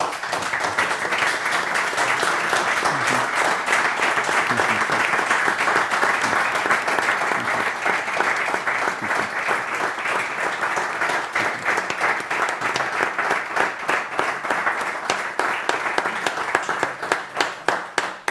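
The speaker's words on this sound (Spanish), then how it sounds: "así que un aplauso para ellos" Sustained audience applause at a social economy conference in Spain, a long even wash of clapping that grows more rhythmic and thins toward the end.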